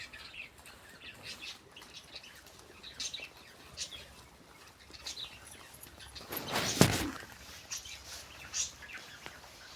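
Wild pigeons and their chicks give faint chirps and calls over a quiet outdoor background, with a few soft wing flutters and one louder rustling burst partway through.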